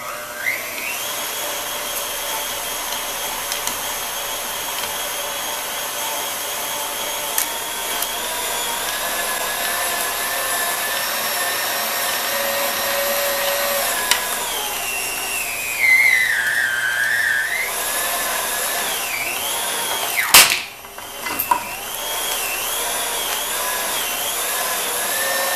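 A grinder chews through scraps of silicone mold rubber with a steady high-pitched whine and airy whir, the pitch sagging and dipping as material loads it, ending in a brief sharp clatter.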